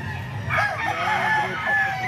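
A gamefowl rooster from a breeding line crows close by, one drawn-out, loud cock-a-doodle-doo rising and holding over a steady background hum.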